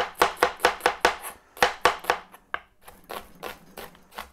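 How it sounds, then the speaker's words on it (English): A knife chops an onion on a cutting board in a home kitchen, a rapid series of crisp, close knocks in quick rhythm, briefly pausing and then resuming more softly. "Don't like slicing an onion like that, so I'm just gonna do it like this."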